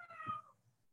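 A house cat gives a single short, faint meow, heard close and alone against a quiet room.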